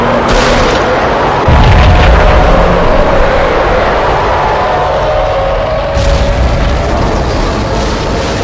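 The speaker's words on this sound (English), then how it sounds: "Another bomb exploded inside the closest slum building" A bomb explodes inside a slum building in the video game Max, a heavy booming blast with a deep rumbling low end that swells, then lingers as a sustained roar with a second surge of debris noise.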